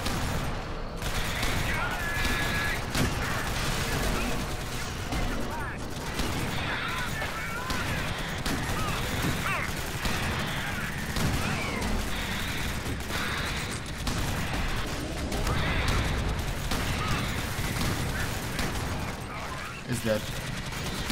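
Dense, continuous gunfire from the video game Reactive Drop: Alien Swarm as players shoot an alien, loud sustained bursts layered with game effects, with people talking over it throughout.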